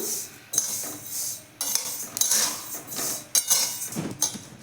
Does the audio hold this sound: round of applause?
no